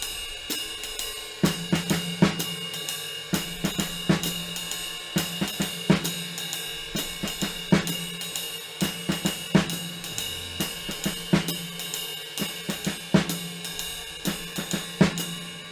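Jazz drum kit playing a syncopated figure on beat 2, with ride cymbal wash and accented snare and kick hits in a steady swinging pattern, recorded close with no talking.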